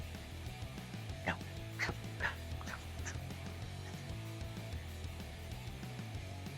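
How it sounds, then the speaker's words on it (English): Faint dog barks sound in the distance, a few short yaps spaced over a couple of seconds beneath a low, steady background hum. "Sounds like a dog."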